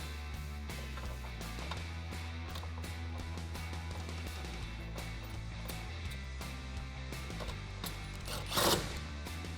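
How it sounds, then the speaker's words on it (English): A ratchet fitted with a 13mm socket tightens clamp bolts on a tonneau cover for a 2009-2018 RAM 1500. Steady rapid clicking runs throughout, close and distinct, with a brief louder clack near the end. "we're just going to tighten those down with a 13mm socket"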